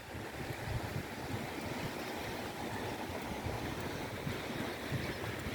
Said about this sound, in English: It sounds windy. It's just barely breezy.